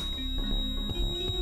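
A homemade alarm built from a speaker and an LED gives a thin, continuous high electronic tone that holds steady under low background noise and handling sounds.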